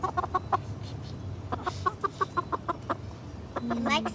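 Farmyard chickens clucking in a quick series of short, close calls with brief pauses, followed by a rising squawk near the end.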